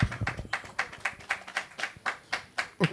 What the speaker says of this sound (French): On applaudit, on acclame pour Ferré pour ses premiers mots